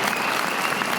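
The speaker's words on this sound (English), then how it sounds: "It's too loud and they cheer too long." Dense crowd applause and cheering used as a podcast intro, a continuous loud wash of clapping and whoops filling the whole second without a break.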